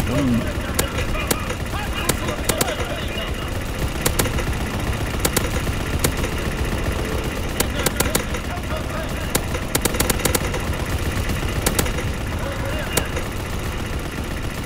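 Ball turret machine gun in Call of Duty: WWII firing in repeated sharp bursts over a constant engine drone, loud and close, with a voice talking over parts of it.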